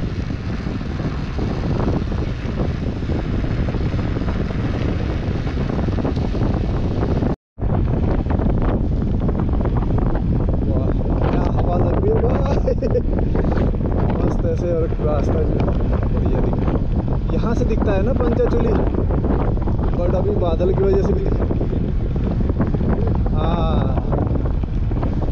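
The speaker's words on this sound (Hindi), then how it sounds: "ठंडी हवा चल रही है" Cold mountain wind in Uttarakhand on the way to Munsiyari, roaring and buffeting the microphone loudly and continuously on a bike trip, broken by one brief dropout.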